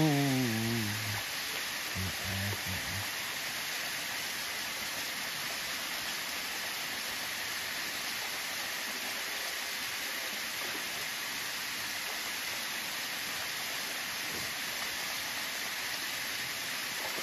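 A village waterfall pours continuously in a steady, full rush of water close by. A short tonal sound comes at the very start, then only the unbroken roar remains.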